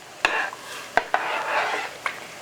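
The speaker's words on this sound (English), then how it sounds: "I'm gonna stir these big, huge pots." A spoon stirring big pots of minestrone soup, giving a few scraping, clinking strokes against the pot amid a soft simmering background, fairly close and without talk.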